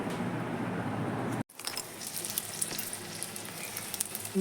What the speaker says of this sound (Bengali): এই যে মিষ্টি কুমড়া ভাজছি এখন